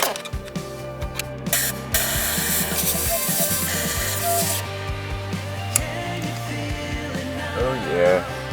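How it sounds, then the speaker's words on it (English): Compressed air blasts into cylinder number 6 of a BMW engine, several loud bursts of hissing air over a steady tonal background, the longest near the middle. "Let's blow it out with some compressed air"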